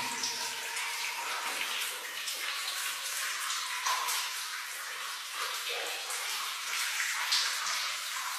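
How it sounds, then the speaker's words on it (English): Water shunted aside and flowing out through a drainage channel, a steady close rushing and splashing that runs without a break from start to finish. "You see the water's shunted off to the side here and is flowing out"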